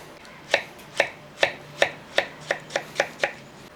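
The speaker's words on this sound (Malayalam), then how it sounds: "ഒരു ചെറിയ ആപ്പിളും കൂടെ അതുകൂടെ നമുക്കത് അരിഞ്ഞെടുക്കാം" A knife chops a small apple on a cutting board, giving about nine crisp, evenly spaced thuds in a steady rhythm, close and clear with no voices.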